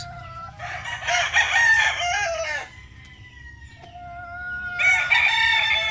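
SBR gamefowl rooster crowing loudly nearby, two long cock-a-doodle-doo calls separated by a short pause, with faint clucking and background hum between them.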